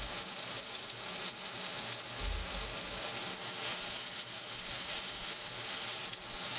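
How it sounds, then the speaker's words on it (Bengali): Chopped drumstick stems and potatoes fry with salt and turmeric while being turned, giving a steady, close hiss of frying with faint stirring under it and no voices. "দেওয়ার পর এবার আমি কিন্তু নেড়ে চেড়ে নেব।"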